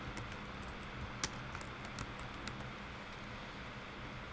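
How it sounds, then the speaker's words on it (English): Soft clicking of a computer keyboard as text is typed in Titler Pro within Adobe Premiere, faint irregular taps over a steady background hiss. "let's just simply type some text"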